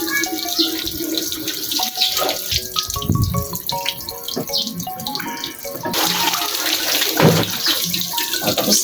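Water runs and splashes steadily during a bath, loud and close, with a faint melodic tune playing underneath.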